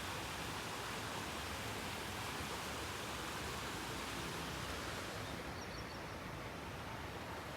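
Floodwater rushes through a street in Surat during rain, a steady, dense wash of broadband noise that stays loud and unbroken throughout, with no voices.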